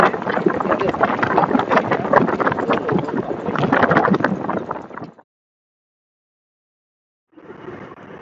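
Wind roars through an open helmet visor on a moving motorbike, picked up by a Truke BTG Neo earbud microphone. A loud, steady rush lasts about five seconds, cuts to silence, then briefly returns.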